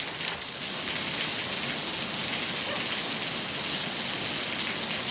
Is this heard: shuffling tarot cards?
no